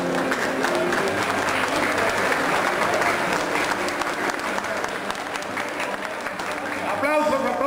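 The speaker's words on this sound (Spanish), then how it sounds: "Aplausos a todos los reconocimientos" A large audience applauds award recipients at a ceremony, a dense, steady wash of clapping that holds loud from start to finish.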